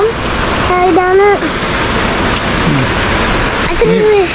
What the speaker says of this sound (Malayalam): മഴ പെയ്യാണ്.